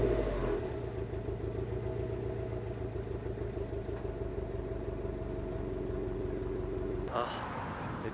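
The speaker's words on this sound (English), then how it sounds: "That rumble is definitely unique to the STi, and once you hear it, you definitely know it's a Subaru coming." A 2018 Subaru WRX STI boxer engine idles with a steady, low, throbbing rumble for several seconds, close and even, before a brief shift in tone near the end.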